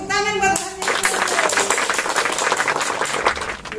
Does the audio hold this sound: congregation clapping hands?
yes